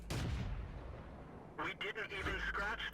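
A tank cannon shot in the game World of Tanks during a Matilda Black Prince match: one heavy boom opens and rolls off into a rumbling decay, then a voice talks over the quieter game sounds.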